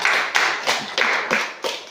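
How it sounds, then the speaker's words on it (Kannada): Children clap together in a classroom memory game, giving about six sharp, evenly spaced claps in a steady rhythm, close and fairly loud, with no talking. "ಚಪ್ಪಾಳೆ ಕೊಡಿ ಮಕ್ಕಳೇ."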